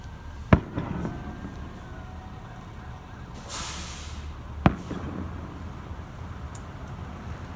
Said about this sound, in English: They shooting fireworks up in the air and shit.